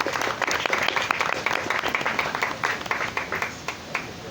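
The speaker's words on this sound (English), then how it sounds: "I hope we can give a round of applause to the Gardens and to the Key West Art and Historical Society" Applause for the hosting gardens and the Key West Art and Historical Society at a poetry event opening at the Gardens Hotel, dense clapping throughout with individual sharp claps standing out, steady then thinning slightly toward the end.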